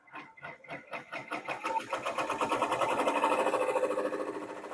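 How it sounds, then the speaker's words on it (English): Embroidery machine sewing a placement stitch on fabric for a pumpkin mug rug, starting with a few separate stitch bursts that quickly merge into a rapid, continuous mechanical chatter heard close up with no talk. "Again, it's going to do the placement stitch."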